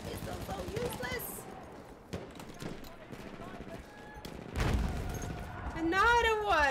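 Rapid pistol shots in a shooter video game, a ragged string of sharp cracks under ongoing talk and game clutter, with heavier bursts near the end.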